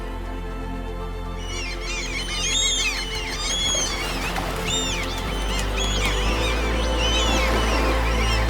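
Gulls cry over a Danish harbour, repeated high calls overlapping at varying distances, some near and loud, above a steady low hum of harbour background.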